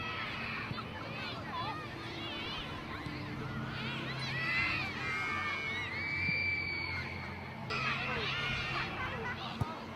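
A crowd of young women screams and shrieks at a celebrity charity football match in a stadium, a continuous high chorus of cheering and shouting with a loud, busy ambience throughout.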